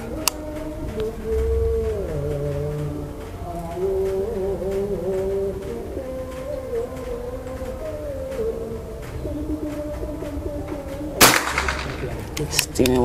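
One loud, sharp report from a PCP Bocap air rifle bursts out near the end over continuous outdoor background hum, followed by brief clattering noise.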